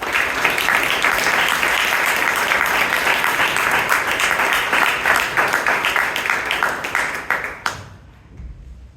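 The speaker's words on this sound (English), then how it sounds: "Okay, please give him a big round of applause." Audience applause at an evening Toastmasters club meeting in Bangalore, a sustained, dense round of clapping from a roomful of people, loud and steady for several seconds before cutting off abruptly into near silence.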